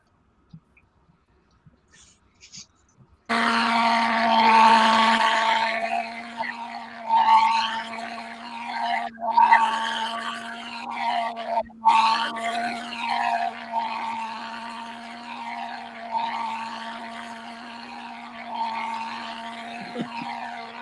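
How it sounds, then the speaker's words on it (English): A slow radio-controlled model jet airplane flies, with a steady whine and a rushing roar that starts abruptly after a few quiet seconds, then swells and fades in repeated passes as it circles overhead. "That was the slow jet"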